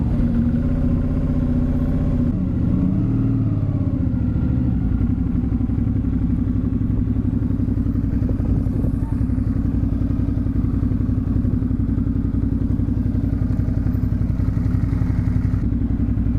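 Motorcycle ride in Australia near Melbourne: a steady, loud engine drone with low rumble runs throughout, picking up briefly early on, with wind and road clatter over it.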